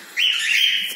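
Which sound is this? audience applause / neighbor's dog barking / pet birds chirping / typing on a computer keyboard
pet birds chirping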